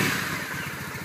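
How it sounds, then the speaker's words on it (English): A 2008 Triumph Bonneville T100 motorcycle engine fires up without the choke and settles into a loud, close, throbbing idle with a steady pulsing beat. "I'm going to keep the choke off to show you guys that it does start up."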